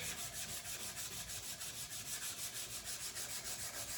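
Sandpaper rubbing steadily across the steel blade of a handmade drop point knife, a close, continuous scratchy hiss with a quick back-and-forth rhythm and no voices.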